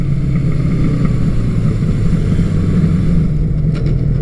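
A Honda CB900 Custom motorcycle with a 10-speed transmission runs steadily and loudly close by while downshifting through the gears, its engine drone continuous with a few faint clicks near the end.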